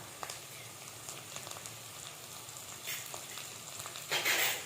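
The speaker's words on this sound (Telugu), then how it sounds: "పచ్చి వసన పోయేదాకా ఫ్రై చేస్తాను" Frying in a pan with turmeric added before ridge gourd goes in, a quiet steady sizzle with a few faint scrapes and a brief louder hiss near the end, no talking.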